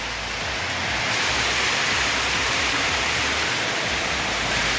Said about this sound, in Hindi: बहुत तेज एकदम बारिश स्टार्ट हो चुकी है।